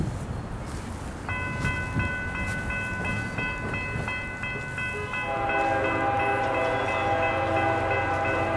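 A Norfolk Southern military freight train with a BNSF locomotive leading rolls through Norcross, Georgia; the steady rumble of the passing train is joined by long, loud chords from the locomotive horn, sustained near the end.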